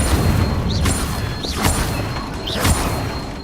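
Fire spell cast in Hogwarts Legacy, heard as three swishing whooshes with bursting impacts at regular intervals over a constant, dense game soundscape.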